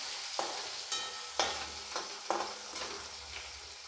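Tomato and chilli cook in a pan for Gujarati batata poha, a quiet sizzle broken by several sharp scrapes of a spoon stirring, about five strokes at an uneven rhythm, close by.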